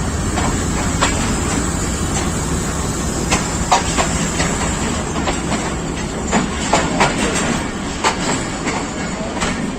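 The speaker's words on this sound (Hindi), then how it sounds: "प्लेटफार्म नंबर 3 पर गौरी एक्सप्रेस 113 आप लाहौर जाने के लिए बिल्कुल तैयार। लोकोमोटिव AGE 36007 के साथ।" The Pakistan Railways Gauri Express, hauled by locomotive AGE 36007 at a platform, rumbles loudly and steadily with repeated wheel clicks and clanks, close by and without talk.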